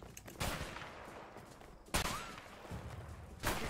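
Shotgun blasts in the video game A Way Out: three loud, sharp shots spaced more than a second apart, each followed by a short decaying tail.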